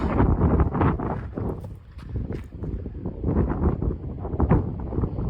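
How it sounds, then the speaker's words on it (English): Strong wind on the Santorini coastline buffets the microphone in continuous rumbling gusts, loud and rough throughout with no pause. "the wind was proper gusting in"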